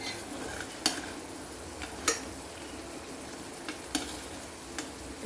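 Jaggery melting in a pan for pickle masala, a steady soft sizzle under occasional sharp scrapes and taps of a stirring utensil, close and continuous.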